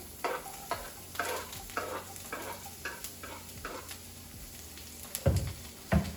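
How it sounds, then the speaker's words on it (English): Onions sizzle in hot oil while a spoon stirs them in repeated scraping strokes, with a couple of louder clunks near the end. "You should hear a nice sizzle like you do right now if your oil is hot enough."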